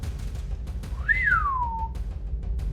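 A single rising-then-falling whistle, like a signal whistle in a tense setting, carries clearly over a steady low rumble for about a second.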